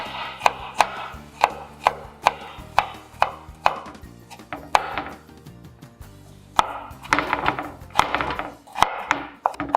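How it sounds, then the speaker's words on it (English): A knife chops garlic cloves finely on a board, crisp evenly spaced chops at first, then quicker bursts of rapid cutting, close and clear with no talking. "Finely chop the garlic"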